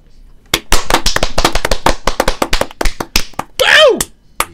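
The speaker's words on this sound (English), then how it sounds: "let's do a quick applause" A small group claps quickly during a podcast, sharp sparse claps near the microphone in an uneven rhythm, with a whooping voice rising near the end.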